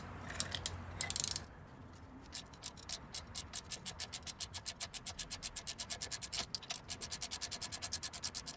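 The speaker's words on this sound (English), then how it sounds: "you can do this by removing these two big bolts behind the actual brake caliper" Ratchet wrench loosening thread-locked brake caliper bolts on a Jeep Wrangler JK: a few scrapes and clunks, then a long run of fast, even, close ratcheting clicks with short pauses between strokes.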